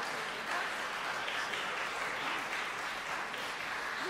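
Steady applause from a concert audience at the Chopin College, held throughout as someone speaks over it.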